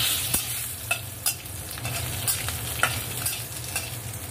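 Bay leaves and green chillies fry in hot oil in a pan with fried spices, a steady sizzle under sharp clicks and scrapes of a spoon stirring at a close, even volume.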